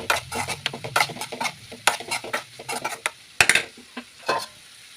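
A spoon stirs salt into egg curry in a pot, giving irregular clinks and scrapes against the metal with a faint simmer underneath.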